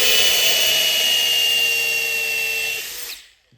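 A high-pitched power drill whines steadily at close range, then winds down and cuts off near the end.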